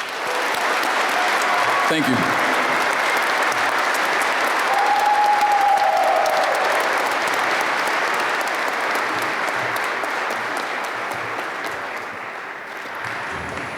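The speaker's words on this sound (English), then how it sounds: "join me in a round of applause and congratulating our 2021 graduates" Sustained audience applause at a December 2021 commencement ceremony honoring the class of 2021 graduates, loud and steady throughout before slowly tapering, with a brief spoken thanks near the start.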